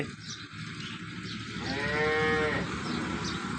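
A milking cow lets out a single loud, drawn-out moo close by, rising and falling over a quiet farmyard background.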